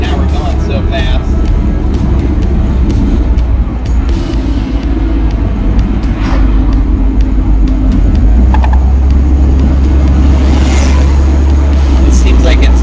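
A car with an A340 automatic transmission accelerates and kicks down to a lower gear, its engine drone loud and steady throughout with road noise, while a person talks over it.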